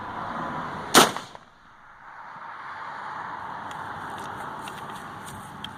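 A single sharp, loud musket shot rings out during a Civil War demonstration, fired after the weapon is brought to full cock, followed by a brief decaying echo and quiet outdoor ambience.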